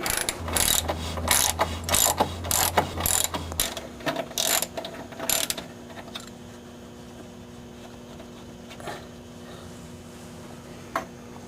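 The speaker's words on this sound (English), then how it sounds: "we have a ratchet down here to turn it" A ratchet turning a bolt on the front lower control arm of a Volkswagen Jetta, Golf or Beetle, with an 18 millimeter wrench holding the nut: a close run of rapid clicking strokes, then quieter scattered clicks over a steady hum.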